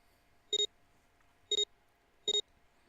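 A device in the video game 999: Nine Hours, Nine Persons, Nine Doors beeps three times at even one-second intervals, each a crisp double-pulsed electronic tone, clear and isolated against a quiet background.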